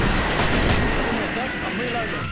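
Dense gunfire rattles in the Killing Floor video game, a loud, continuous barrage of overlapping shots and blasts with a voice faintly mixed in.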